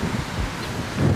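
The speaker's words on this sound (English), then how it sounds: "It's getting windy out here." Brief gusty wind rumbling across the microphone outdoors on a car dealership lot, swelling slightly toward the end.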